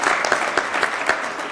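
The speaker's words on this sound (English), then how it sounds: "Please clap for the panel." Audience at a digital and technology week panel applauding, a brief burst of dense clapping from a crowd, steady and moderately loud, with no talk over it.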